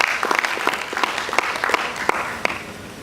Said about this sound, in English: Please give Mr. Wusu a round of applause.